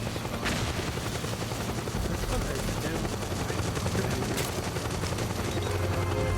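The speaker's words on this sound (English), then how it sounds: "Another fucking helicopter?" In the Metal Gear Solid 4 video game, dense rapid gunfire and explosions crackle over a constant helicopter rotor roar, a loud, busy wash of combat noise with no clear speech.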